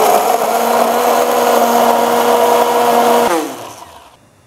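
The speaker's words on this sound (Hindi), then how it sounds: "तो चलें अब हम इसको अच्छे से ग्राइंड करेंगे।" A mixer grinder grinds chutney with a steady, loud whirring motor drone. Near the end the motor cuts off and the sound winds down to quiet.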